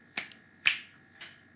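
Three crisp finger snaps ring out, spaced about half a second apart, close and clear in a quiet room, the last one softer.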